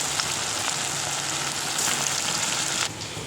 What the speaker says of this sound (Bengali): এবার এটাকে ডিপ ফ্রাই করব। এই যে আস্তে আস্তে করে দিয়ে ভেজে নিতে হবে